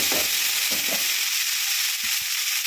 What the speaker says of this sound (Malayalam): അതിലേക്ക് കഴുകി വെച്ച കിഴങ്ങ്, ഉള്ളിത്തണ്ട് അതിട്ട് കൊടുക്കാം.